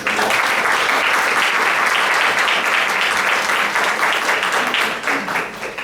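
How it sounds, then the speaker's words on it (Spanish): Warm applause from a university lecture audience greets a psychology doctor from the Autonomous University of Barcelona, a dense, steady wash of many hands clapping close by for several seconds before thinning slightly at the end. "para quien le pido un caluroso aplauso"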